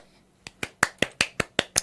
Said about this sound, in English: Everybody, clap for yourself.